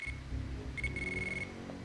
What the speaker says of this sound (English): And there's the pager sound.